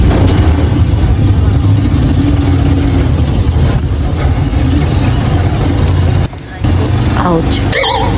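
A motorized tricycle engine drones steadily throughout a ride toward a subdivision, loud and continuous with road rumble, briefly dropping out for a moment before resuming.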